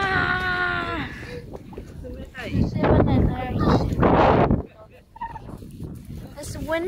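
Gusty wind buffets the microphone beside a lake, a rumbling roar that swells and drops, mixed with excited talking.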